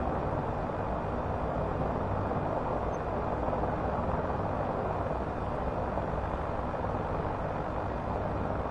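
A Hiller UH-12B helicopter runs in Microsoft Flight Simulator 2024, its engine and rotor giving an unbroken, even roar that stays loud and unchanging from start to finish, with no voices.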